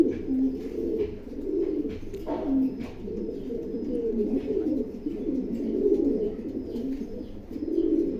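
Pigeons, racing and breeding birds, coo in low, rolling repeated calls close by, several voices overlapping steadily with little else around.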